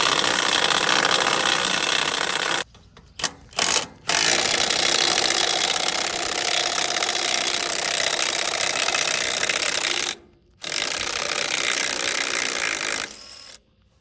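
Wheel bolts are loosened on a 1958 Ford 871 Powermaster tractor with a loud, rattling power tool, running in long hammering bursts with several brief stops and restarts.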